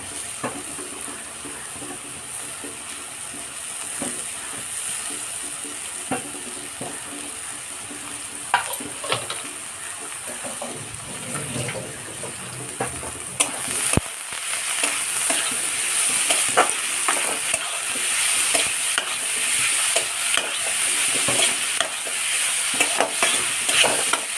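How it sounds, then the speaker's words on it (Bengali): Onion, grated carrot, chili and tomato fry together in a pan with a continuous bright sizzle, punctuated by clinks and scrapes of stirring that grow busier and louder toward the end. "এবার আমি দেব গাজর গ্রেট করে রেখেছি সেটা, আর লঙ্কাটাও একসাথে দিয়ে দিচ্ছি, আর টমেটোটাও দিয়ে দিচ্ছি।"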